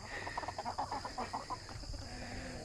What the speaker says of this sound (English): I think that's a rooster